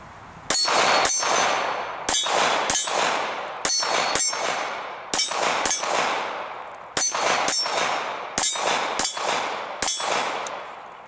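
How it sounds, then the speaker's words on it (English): 9mm rounds from an HK P7M13 pistol strike steel targets, giving a quick series of about a dozen sharp, ringing metallic clangs in pairs and singles, each fading before the next. "insert fresh mag, chamber around, and get to work here on the steel"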